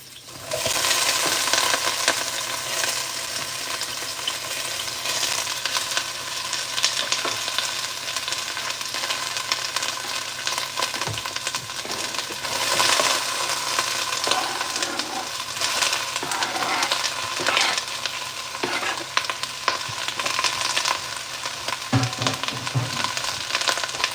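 Two sliced yellow onions fry in a pan, giving a steady, dense sizzle that crackles on for the whole stretch, with occasional light clinks and stirring noises.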